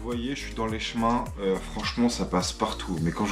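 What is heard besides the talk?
None of the usual background noises is heard.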